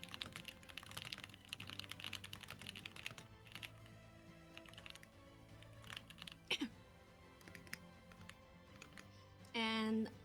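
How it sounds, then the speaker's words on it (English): Typing on a computer keyboard during an online esports tournament's ban phase: faint, irregular clusters of key clicks under quiet background noise, with a short tone near the end. "And they are typing,"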